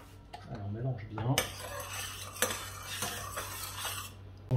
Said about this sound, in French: Alors on mélange bien.